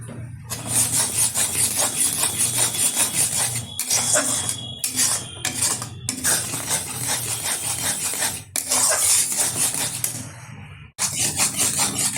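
A spatula stirring and scraping a thick sweet mixture as it reduces in a pan, with close, rhythmic rasping strokes broken by short pauses and no talk.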